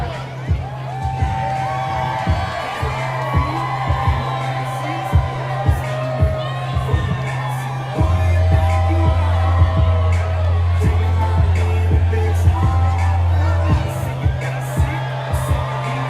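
A large crowd cheers, whoops and shouts along a street during the Thunder in the Fort trophy parade in Fort Smith, with steady low engine or drum-like hum and sharp bangs throughout, the noise swelling louder midway.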